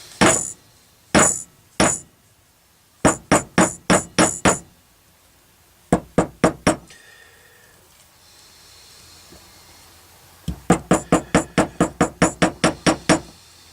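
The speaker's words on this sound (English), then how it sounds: "Here's where you get to be a master smacker with a hammer." A hammer strikes a metal steampunk necklace pendant in sharp, ringing blows, quick clusters of taps separated by pauses, ending in a long rapid run of even strikes.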